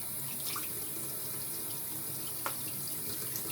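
A bathroom sink tap runs steadily, a continuous hiss of flowing water with no voices over it.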